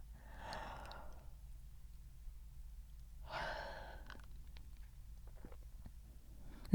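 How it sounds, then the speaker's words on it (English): Two slow, breathy yawns a few seconds apart, soft and close, each a drawn-out exhale with quiet pauses between. "Now a yawn to help you."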